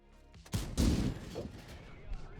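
In a tank battle video game, heavy cannon fire bursts out close and loud with a sharp blast, then a booming, rumbling tail and a second thud trailing off.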